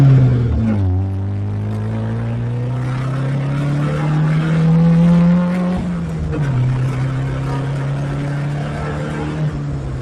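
A Toyota Corolla AE71 engine revs at quarter throttle during tuning, a steady droning note that climbs, holds high for a few seconds, then drops back and settles. Loud and close, heard without any talking.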